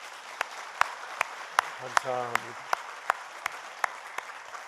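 Sparse clapping in a church service: single sharp claps evenly spaced about every half second, fairly close, with a brief spoken word in the middle.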